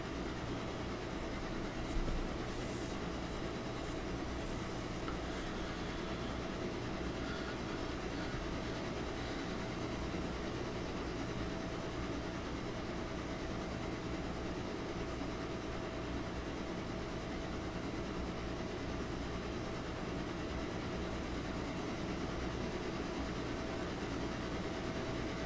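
Locomotive running on rails in the train simulation game Railroader, a steady rumbling drone with faint rhythmic clatter, constant and fairly loud throughout, with a few brief higher squeals early on.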